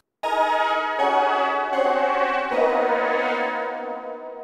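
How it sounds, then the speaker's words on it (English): A Nord Lead 2X synthesizer patch played dry, without a tube preamp: sustained harmonically rich chords that change about four times, loud and continuous with a bright buzzy tone and no voices. "what does the Nord lead 2X sound like with the Freqtube or without?"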